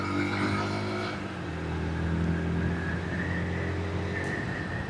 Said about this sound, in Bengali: আর ইঞ্জিনের সাউন্ড, এক্সজস্ট নোট খুব সুন্দর